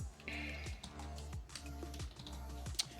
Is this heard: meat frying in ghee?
no